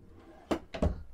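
A bedroom drawer in a 2021 Grand Design Imagine 2500RL travel trailer slides open or shut, two quick close thuds in a quiet room.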